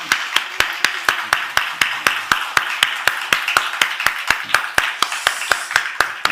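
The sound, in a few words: congregation clapping in church to encourage children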